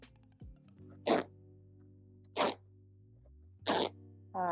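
Three separate tearing rips as the seams of old denim jeans are pulled apart, each a short loud burst with quiet pauses between, close up and with no talk.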